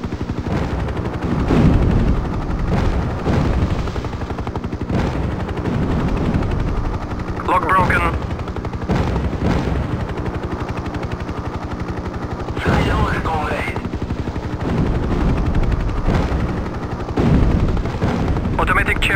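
Helicopter gunship cannon fire in the 1998 combat flight game Hind during a Kazakhstan campaign mission, repeated loud bursts over a steady rotor drone, with radio voice callouts between shots.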